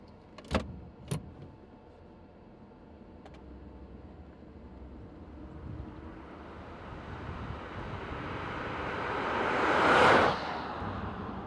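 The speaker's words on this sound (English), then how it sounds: "So let's set off, take the car for a drive." A 1987 Mercedes R107 560 SL sets off: a few sharp clicks and knocks, then a steady low engine hum and road noise that build gradually to a broad rushing peak near the end, with no talking.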